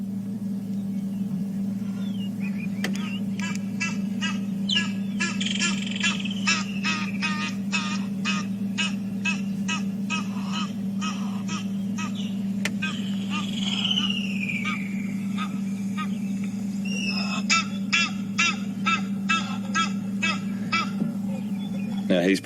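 An Egyptian goose call plays from a phone app on a safari drive, repeated harsh honking and hoarse chattering bursts over a steady engine-like drone, with calm outdoor ambience.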